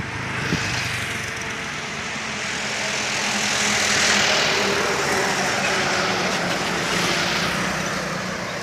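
Busy night traffic on a road into Hanoi, with many motorcycles making a continuous broad engine roar and road hiss that swells and fades as vehicles pass close by.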